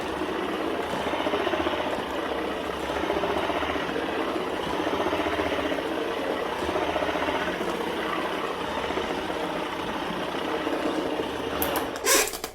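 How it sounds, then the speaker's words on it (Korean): A Sawadika DM-D166 cordless wet mop cleaner with back-and-forth scrubbing and water spray runs steadily, giving a constant close motor buzz and vibration with no pauses, ending in a short clatter. "저는 이런 방식의 물걸레 청소기가 때가 잘 빠져요"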